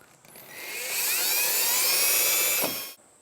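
Power drill boring a hole through the metal frame of a 1997–2003 Ford F-150 pickup, a high rising whine that holds steady for about two seconds and then spins down, heard alone and close.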